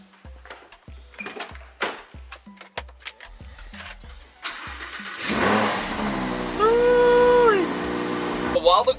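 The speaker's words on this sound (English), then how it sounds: "While the car's warming up" A car engine cranks after several clicks and thumps, catches, then settles into a loud rising idle while warming up, with a brief whine and voices talking nearby.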